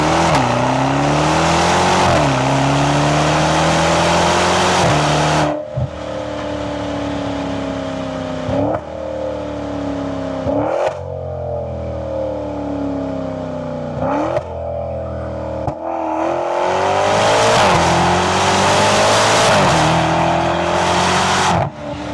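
Maserati Quattroporte in sport mode accelerating hard, its engine note climbing in loud, sustained pulls with brief dips at gear changes, repeated through several upshifts and no talking.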